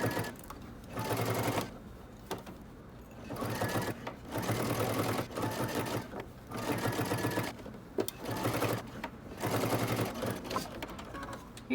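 Sewing machine stitching around a dress sleeve seam from a Simplicity 8547 pattern, running in several steady whirring bursts with short pauses between, close and fairly quiet.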